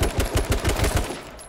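Rapid automatic gunfire from an AK-style rifle in a first-person shooter, a burst of about eight close, loud shots in an even rhythm with no one speaking.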